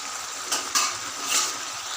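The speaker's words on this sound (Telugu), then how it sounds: "ఇలా మధ్య మధ్యలో కలుపుతూ ఫ్రై చేసుకోవాలి" Eggplant and tomato curry sizzles in a pan, steady and close, while a spoon scrapes and stirs in a few brief strokes.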